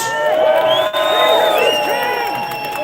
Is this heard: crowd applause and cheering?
yes